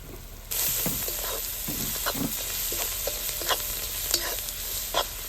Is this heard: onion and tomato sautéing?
yes